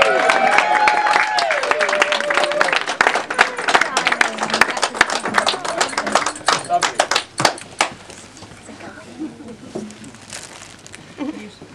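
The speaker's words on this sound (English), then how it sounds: "And yeah, another round of applause," Wedding guests clapping, a dense burst of applause that thins into scattered individual claps and fades out, heard nearby in a reception room.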